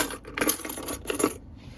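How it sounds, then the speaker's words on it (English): Car keys set down in the console of a 2021 Nissan Versa SV subcompact, giving a few light metallic clinks and jingles up close, short and fairly quiet. "you could also put the keys over here."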